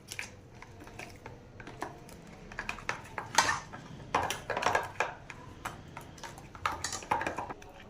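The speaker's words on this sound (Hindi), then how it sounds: "इसके ऊपर ठंडा किया हुआ कस्टर्ड डालेंगे" Cooled custard is poured and spread over bread set in a dish, heard as a run of close, sharp spoon clinks and scrapes against the dish with brief wet pauses between, and no talking.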